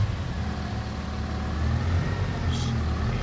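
A tipper truck engine in a farming video game, a low steady rumble, close and moderately loud, with a brief higher whine near the end.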